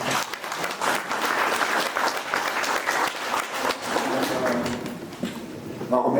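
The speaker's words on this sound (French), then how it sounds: "on peut l'applaudir, je vous remercie" Audience applause for the mayor at a spring photography awards ceremony, a sustained burst of clapping in a hall that thins toward the end, with some talk mixed in.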